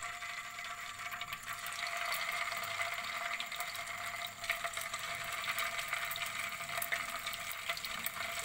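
Chicken mince balls fry in white oil in a pan over low to medium heat, giving a steady, soft sizzling hiss that crackles lightly throughout, with no talking.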